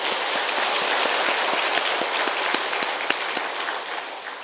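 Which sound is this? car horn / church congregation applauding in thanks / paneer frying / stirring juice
church congregation applauding in thanks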